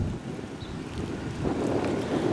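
A small river barge with two engines drifts downstream in the wind, making a continuous low rumble mixed with gusty wind buffeting and watery wash, with no voices, growing slightly louder toward the end.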